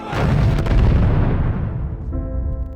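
A loud, deep explosion booms and rumbles, decaying slowly, followed by a faint sustained tone as the blast fades.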